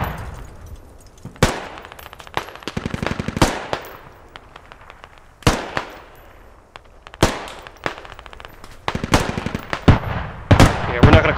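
Suppressive machine gun fire in Squad comes in repeated loud bursts of rapid shots, close by, with echoing cracks and pauses between volleys while other gunfire sounds around them.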